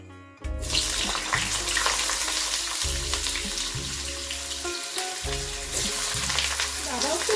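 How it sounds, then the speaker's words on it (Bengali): Cauliflower and potato pieces drop into hot oil to fry. A loud burst of sizzling starts abruptly and then settles into a dense, close crackle that continues to the end, with occasional stirring knocks. "ফুলকপিটা আর এই আলুটাকে একটু ভেজে নেব"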